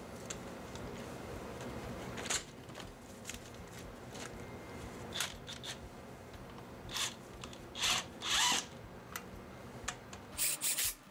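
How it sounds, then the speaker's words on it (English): Ratchet driving bolts down with a 22mm socket during front brake work on a Cadillac Escalade, quiet rubbing clicks followed by several louder bursts of ratcheting toward the end. "Go ahead and ratchet them down with a 22mm socket."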